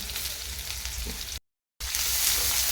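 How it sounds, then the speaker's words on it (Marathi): Onion frying in hot oil with mustard seeds and cumin, a steady close broadband sizzle that cuts out to silence for a moment and then resumes just as loud. "कांदा दोन मिनिट भाजून घ्यायचा"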